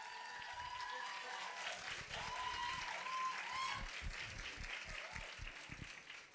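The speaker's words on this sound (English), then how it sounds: "Can we give them a round of applause again?" A hall audience applauds students at an awards ceremony, steady clapping running the whole time with individual claps standing out, faint and somewhat distant, with a murmur of voices underneath.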